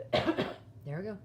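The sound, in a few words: cough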